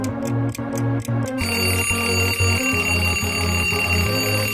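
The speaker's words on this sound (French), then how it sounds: "Réveil à 7h du matin. T'as mis 15 portables à sonner." Several phone alarms ring together in the mobile game PK XD, a steady repeating electronic tone pattern that starts with sharp beeps and then swells into a dense, continuous loud ringing with a pulsing rhythm, no talking.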